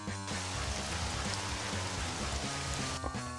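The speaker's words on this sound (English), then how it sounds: "There's rain now." Steady rain in a video game, a dense hiss that starts abruptly and holds at an even level for about three seconds before cutting off, with no talk over it.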